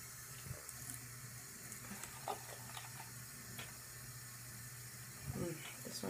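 Tap water runs steadily into a sink while makeup brushes are washed with shampoo, a soft continuous hiss with small splashes and clicks, and a brief spoken murmur toward the end.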